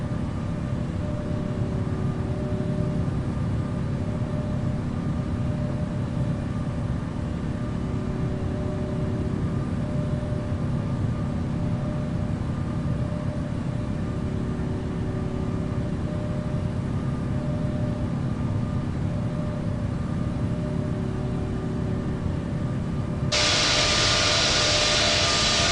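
A steady aircraft engine drone with a constant whine hums evenly throughout as a plane taxis to runway 27 right at London Heathrow in the Infinite Flight simulator, the tone brightening abruptly near the end.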